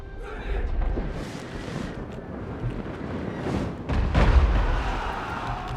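Artillery volleys of solid shot in the Total War: Three Kingdoms siege battle, dull booms and rumbling impacts spread across the clip, with a heavier burst near the end over a continuous battlefield din.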